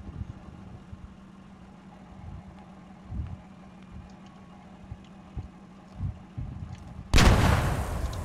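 Anti-tank weapon fire in the military shooter game Squad: a sudden loud, broad blast near the end after several duller distant thumps over a low engine-like rumble.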